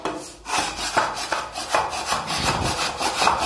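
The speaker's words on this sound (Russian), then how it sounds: "Надо счесывать, значит, раз неровно, да?" Rough rhythmic scraping strokes rasp across an uneven plaster wall being shaved down, close and loud, repeating in quick back-and-forth passes with no talk.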